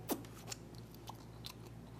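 Close, crisp crunching and biting of raw Jeju seafood, a few sharp crunches spaced over two seconds, quiet and alone without talk.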